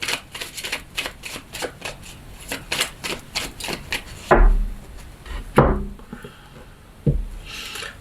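Tarot cards shuffled by hand in a quick run of crisp riffling flicks, then a few louder knocks and slaps as the deck is cut and set down, close by with no talking.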